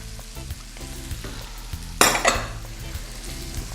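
A jumbo prawn and a prawn head fry in a pan, making a steady close sizzle. Partway through there is a sudden bright burst of spitting and crackling that fades back into the bubbling.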